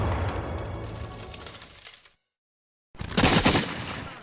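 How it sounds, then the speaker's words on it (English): A barrage of cannon and mortar fire during the siege of Charleston, heard as rumbling, crackling bursts that stop into a brief silence, then a louder blast of fire resumes, with no voices. "the British rain a constant barrage of cannon and mortar fire down upon the town."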